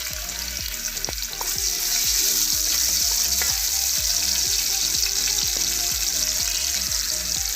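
Ginger frying in two tablespoons of hot coconut oil, a loud steady sizzle with regular scraping stirs, close up and with no talking.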